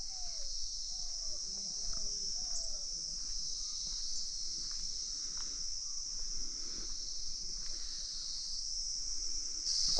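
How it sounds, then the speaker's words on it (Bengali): Crickets chirp at night in a rural village near Kalimpong in North Bengal, a steady high-pitched trill droning on without pause while soft, faint birdcalls and distant murmurs drift underneath. "এখনও কিন্তু ঝিঝি পোকা ডাকছে"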